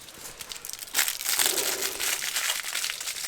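Carbon tape crinkling and crackling as it is handled while being applied inside a VW Golf mk3 VR6 Syncro, a close, continuous rustle that grows louder about a second in.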